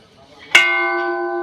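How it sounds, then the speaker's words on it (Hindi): A metal temple bell at Sarangnath temple in Varanasi is struck once, sharply and loudly, then rings on with a clear, sustained tone that slowly decays, after a faint murmur beforehand. "घंटा बजाओ भाई।"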